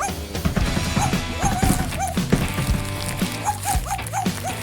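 Dog barks and whimpering yelps come in short, repeated bursts at close range, layered over busy background music and clatter.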